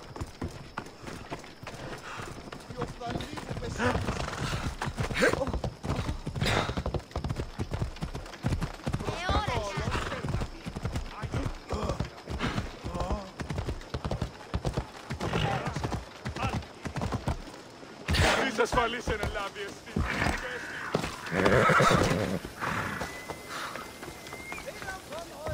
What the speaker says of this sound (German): Nehmen wir mal lieber das Pferd.